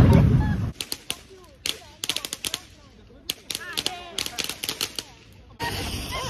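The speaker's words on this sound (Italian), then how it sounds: "Questo è il risultato dei nostri botti." New Year 2024 firecrackers go off outdoors in rapid crackling volleys of sharp pops, loud and close, with short gaps and a final burst of dense crackle.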